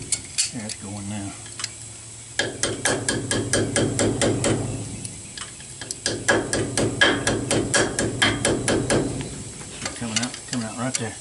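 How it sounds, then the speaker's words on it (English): Rapid series of light hammer taps on a Load Trail trailer brake part, in quick rhythmic bursts with short pauses, close by, with faint talking in between. "I'm getting a little hammer here."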